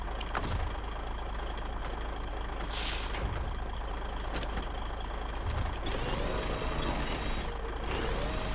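A truck in the off-road game SnowRunner, with a sharp hiss of air release from the handbrake standing out over a continuous low engine drone, with a few brief mechanical clunks and a rising whine near the end.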